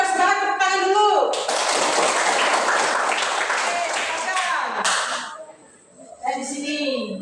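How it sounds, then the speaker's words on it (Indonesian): Students in a junior high school classroom break into sustained, loud clapping for a group about to present. The applause lasts several seconds, then tapers off as a voice speaks. "Sekali lagi bersemangat, tepuk tangan dulu."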